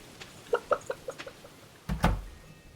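Chickens clucking in the Stardew Valley farming game, a run of short, soft clucks followed by a louder, fuller squawk near the end, with no talk over them.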